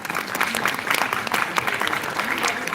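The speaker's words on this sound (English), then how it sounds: "Another applause." Sustained audience applause at a medical quiz, a dense, steady patter of many hands clapping at even loudness throughout, with a faint murmur of voices underneath.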